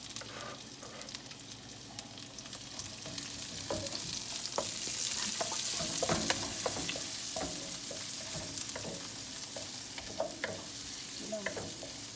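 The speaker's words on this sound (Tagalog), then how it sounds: "Lagyan na natin ito sibuyas." Onion frying in a pan for ginataang tilapia: a constant sizzle broken by frequent sharp scraping and clinking as a utensil stirs it, close and moderately loud, with no voices.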